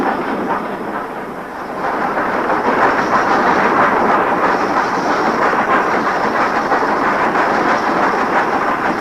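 A steam train hauled by a Class 5 locomotive rumbles steadily along the rails, a loud continuous roar with faint rhythmic clatter, building slightly after the first couple of seconds.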